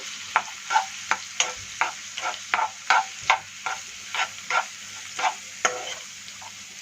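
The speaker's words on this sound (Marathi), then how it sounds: "एक 2 मिनिटं हा कांदा मी असाच फ्राय करून घेते" Onion fries in oil or butter over medium flame for stuffed cheesy mushrooms, a faint continuous sizzle punctuated by a steady series of stirring scrapes roughly every half second.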